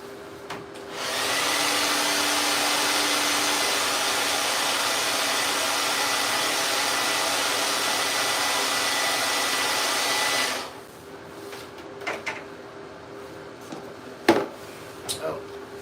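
A blow dryer dries a freshly sprayed chip repair coat, roaring in a loud, steady whoosh for about nine seconds before cutting off, followed by a few light handling clicks.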